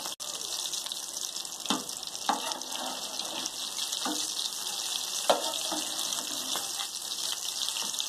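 Potato kebabs fry in oil with a dense, continuous hiss and crackle, punctuated by occasional louder pops and spatters, close and steady throughout.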